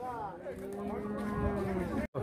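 Cattle low with long, drawn-out moos at a busy livestock fair in Águas Belas, Pernambuco, with a steady crowd murmur around them.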